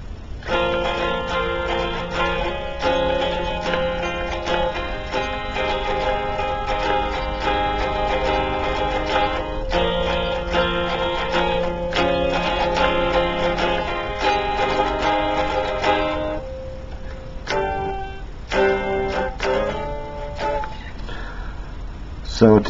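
Acoustic guitar strumming the bridge of a song as a lesson demonstration, steady chords ringing continuously and fairly loud, a few separate strums near the end, no talking.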